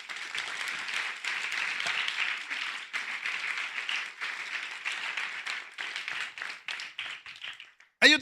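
A church congregation breaks into a long round of clapping during a sermon, dense and fairly loud, rising and falling in waves before a brief sharp burst of sound right at the end.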